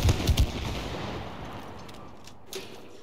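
A weapon fires in the co-op game It Takes Two, with a few sharp, close shots at the start that fade into a rumbling, decaying tail and a single faint pop near the end.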